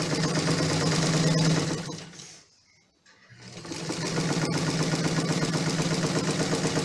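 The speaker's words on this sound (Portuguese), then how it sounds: "Observe que eu estou simulando uma costura reta e estou controlando o tecido com a mão, enquanto eu controlo a velocidade com o pé." A sewing machine stitches a straight seam in fabric guided by hand, with a foot pedal controlling speed: a fast close rattling whir that stops briefly in a near-silent gap, then resumes and holds steady.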